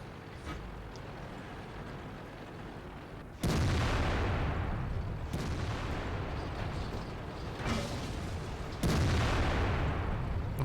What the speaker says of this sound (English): And here comes the artillery.